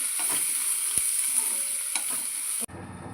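Finely chopped onions fry in a pan with urad dal and cumin seeds, giving a bright constant sizzle and a few soft stirring knocks, close up, before the sound cuts off abruptly near the end.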